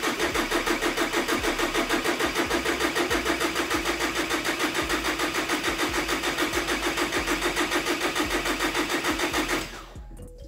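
A VW T5 2.5 TDI diesel van with a newly replaced turbocharger cranks in a long, even, rhythmic chugging for about nine seconds, loud and close, before the sound suddenly drops to a much quieter low hum.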